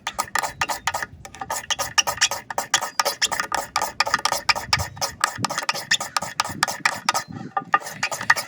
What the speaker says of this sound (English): the magnesium is scraping off just as easily as it would if it had just come out of the package